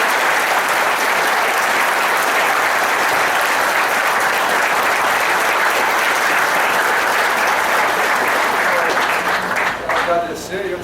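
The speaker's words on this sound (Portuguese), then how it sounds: "Queria pedir uma calorosa salva de palmas" A large audience at a military ceremony for future officer cadets gives a loud, sustained round of applause for the military commander, dense clapping lasting about ten seconds before fading as a voice begins.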